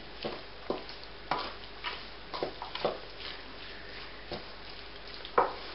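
Salt stirred into a Caribbean chicken curry with tomatoes in the pot: a series of soft, irregular spoon scrapes and light clinks under a low background hiss, with no talking.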